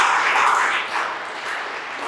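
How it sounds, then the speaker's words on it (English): Students in a lecture hall clap together in a steady, dense patter of applause that holds for about two seconds with no talk over it. "Please clap for them as well."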